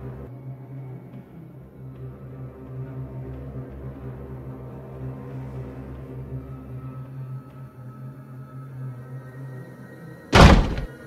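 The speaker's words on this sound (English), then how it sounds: "who slammed the door so hard?" A single hard door slam lands near the end as one loud, sharp bang, after a long stretch of low humming background in an animated horror game scene.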